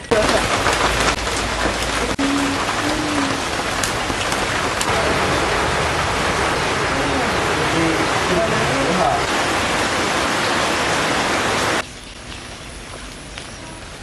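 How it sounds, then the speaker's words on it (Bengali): Heavy monsoon rain pours steadily in a dense, hissing wash over a wild wetland, with faint voices underneath, then cuts to a quieter patter near the end. "আর এরপরই শুরু হয়ে গেল বৃষ্টিপাত"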